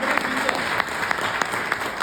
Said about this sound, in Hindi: क्या ऐसी तालियां बनती हैं या नहीं बनती?